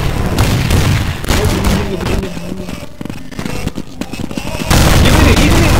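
Gunfire and explosions in Counter-Strike 1.6, loud bursts and booming blasts in an irregular sequence, with a brief lull midway before the noise swells again.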